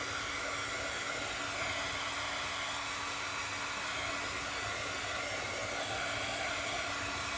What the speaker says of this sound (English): Okay, I'm gonna use this little dryer